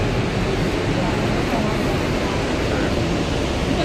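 Bharachukki waterfall roars in a loud, continuous, dense wash of rushing water that stays unchanged throughout, close and steady with no breaks.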